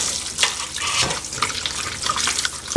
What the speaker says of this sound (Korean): 이렇게 해서 몇 번 헹궈줄게요